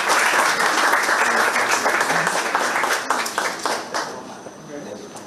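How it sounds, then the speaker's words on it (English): A crowd gives a sustained round of applause for Air Force cadets at a ceremony, dense and steady at first and then slowly thinning out as the clapping dies away. "Let us give one more round of applause for all the cadets today."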